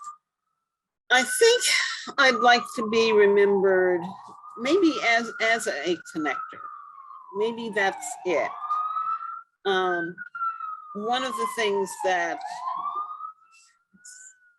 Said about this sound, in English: sorry for the background noise of the ambulance